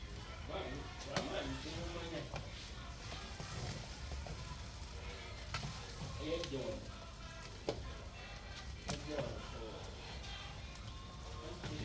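Fish fried rice frying in a pan gives a continuous sizzle with occasional clinks and scrapes, mostly under someone talking.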